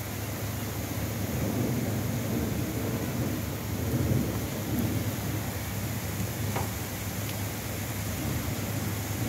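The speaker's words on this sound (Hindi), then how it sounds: "बारिश लगता है तेज हो जाएगी थोड़ी देर में" Rain falls steadily in Sharjah with low rumbles of thunder rolling underneath, a constant wash of noise with no voices.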